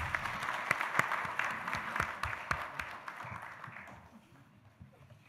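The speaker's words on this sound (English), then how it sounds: "Can we please give her another round of applause?" Audience applause at a national communications authority event in Ghana, a broad crowd of clapping with sharp individual claps, loud at first and fading out over several seconds.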